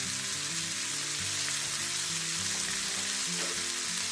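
Scallops pan frying, a steady, close sizzle with a dense, even crackle that holds throughout at a constant level, with no talk over it.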